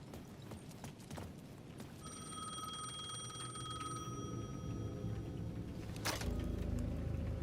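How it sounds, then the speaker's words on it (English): A payphone at the edge of a plaza in the video game Alan Wake 2 rings with a sustained electronic trill for about two seconds, faint amid ambient noise and clattering, followed by a sharp thud. "The payphone at the edge of the plaza was ringing again."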